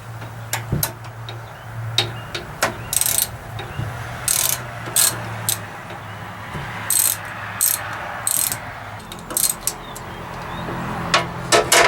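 A ratchet wrench loosens 12mm bolts from the motor of a Jet-16 milling machine, sounding as loud, fast runs of mechanical clicking in repeated bursts separated by short pauses.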